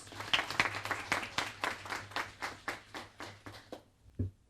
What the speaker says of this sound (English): So give a round of applause to Mr. Chris Lawrence.